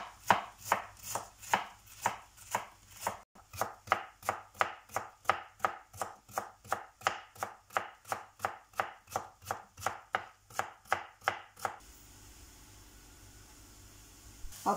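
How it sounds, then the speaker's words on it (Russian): Knife slicing 560 grams of cabbage into thin strips on a cutting board, with steady rhythmic chopping of about thirty close crisp cuts before it stops and faint room quiet remains. "Пятьсот 60 грамм капусты нарежу соломкой"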